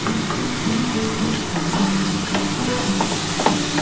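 Parboiled soybeans are stirred in a hot pan, a dense continuous sizzle with faint scraping strokes, loud and close.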